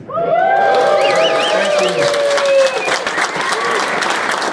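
An audience at the 24 Hours of Lemons awards ceremony at High Plains Raceway breaks into loud, sustained applause, with cheers and shrill whistles rising over the clapping.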